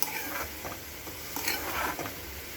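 Spinach frying in about 50 grams of oil is stirred in a pan, a continuous close sizzle with scraping strokes from the stirring and no talking.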